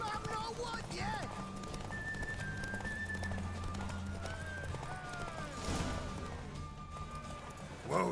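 Horse hooves clip-clopping in The Witcher 3: Wild Hunt, with the mare Roach giving a whinny, steady trotting under ambient game sound and someone speaking.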